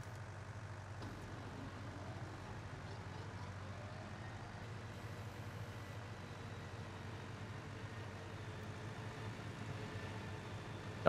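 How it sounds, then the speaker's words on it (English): Mower engine running steadily in the farming game Farming Simulator 19, a low constant motor drone with no change in pitch and no voices. "Okay, let's get this mower fired up here."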